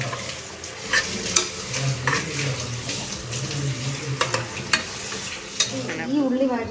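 Onions sautéing in a pan on a home stove, with a soft continuous sizzle and repeated sharp clinks and scrapes of a spoon stirring against the pan, fairly close and without talk.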